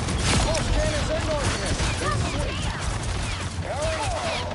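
Rocket pulse cannon super ability fired in the Marvel Rivals video game, a dense, loud stream of blasts and crackling impacts with rising whistling tones, sustained throughout the clip under game noise.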